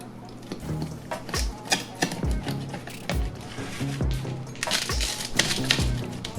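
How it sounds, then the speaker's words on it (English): A cracker-crust pizza is cut with a series of crunchy, clacking chops against a hard surface, close and uneven in rhythm, repeating about every half second over faint background noise. "Let's get this cut up."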